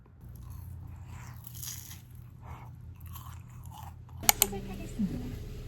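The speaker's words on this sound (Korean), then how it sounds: "아직 얼어있는데 아이스크림 같아 맛있어" Frozen ice cream being bitten and chewed up close, with a couple of sharp crunchy bites standing out over a steady low background hum.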